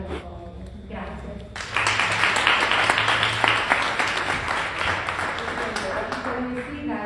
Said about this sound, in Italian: vorrei che accogliessimo con un applauso